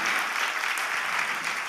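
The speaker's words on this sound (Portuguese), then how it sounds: "Então dê um forte aplauso ao Senhor Jesus." A church congregation gives a loud, sustained burst of applause to Jesus during a worship gathering, a thick, even wash of many hands clapping with no pauses.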